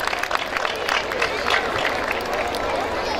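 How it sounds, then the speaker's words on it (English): Crowd applause rises during a trophy presentation at the Sophia School Bikaner annual day, a continuous hissing patter of many hands with murmuring voices underneath. "A round of applause, please."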